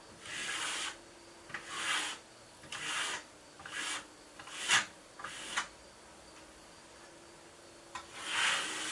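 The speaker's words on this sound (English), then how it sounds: "Keep the edge of your trowel clean. Come in all different directions." Steel trowel sweeping across Marmorino lime plaster, burnishing the finish in a series of soft, rhythmic scraping strokes about once a second, close and fairly quiet.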